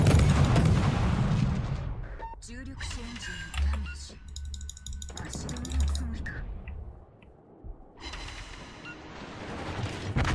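Naval guns of a Shimakaze destroyer in World of Warships fire in heavy booming bursts, with the loud blasts separated by quieter gaps and mixed with game effects while players talk over them.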